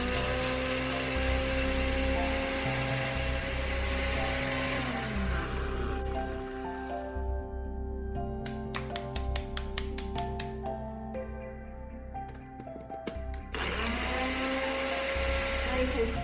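An electric blender grinds whole spices for Chinese five spice powder, a loud steady whirring roar that slows and stops midway, rattles with settling spice, then starts up again at full speed.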